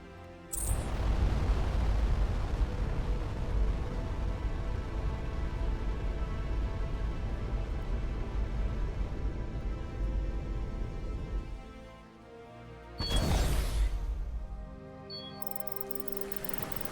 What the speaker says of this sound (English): Lasers and flak cannons.